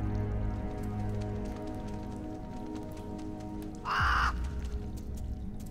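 A crow caws once, brief and sharp, in the video game Strife, rising above a steady patter of rain.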